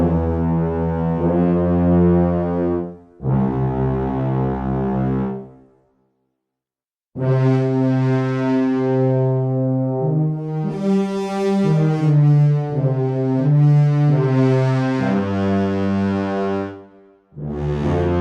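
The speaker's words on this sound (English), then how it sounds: "Let's listen to the one with the horn in it." Low brass ensemble with horn from the Hyperion Brass Elements sample library, sustained warm chords swelling and fading in several long phrases separated by a short silence, loud and close.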